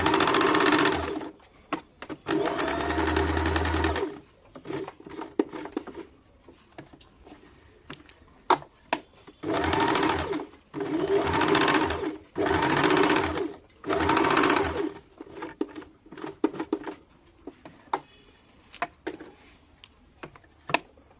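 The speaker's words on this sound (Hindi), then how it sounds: "आइए अब मैं सिलाई शुरू करती हूँ।" A sewing machine stitches a facing strip onto the square front neckline of a deep-neck kurti, running in repeated bursts of a few seconds each, separated by brief pauses and small clicks, close and fairly loud with no talking.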